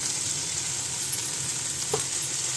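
Okra curry sizzles steadily in a pan after turmeric goes in, a constant hiss of frying with faint stirring scrapes, close and even throughout.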